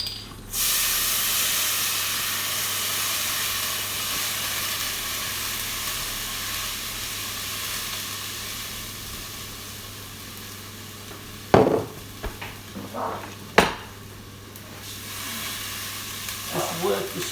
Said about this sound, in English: we take our cider and we deglaze the pan.